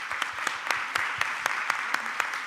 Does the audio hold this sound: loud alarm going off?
no